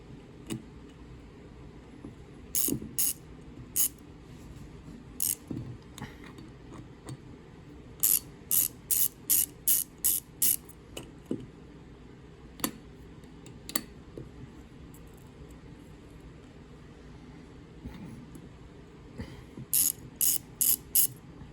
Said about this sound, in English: Next thing is we're gonna go ahead and remove these screws.